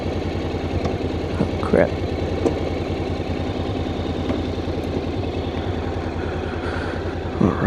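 A Honda NC750X motorcycle idles in neutral close by, a steady low rumbling pulse throughout, with someone speaking briefly over it.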